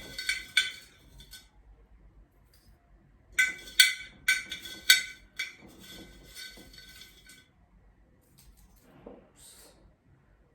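A metal spoon scoops dried hibiscus petals into a cup, giving a few clusters of light clinks and scrapes separated by quiet pauses.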